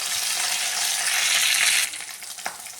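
Chopped green chillies fry in a tablespoon of oil in a pan with a loud, close, hissing sizzle that suddenly drops away to a quieter crackle, followed by a brief stirring scrape.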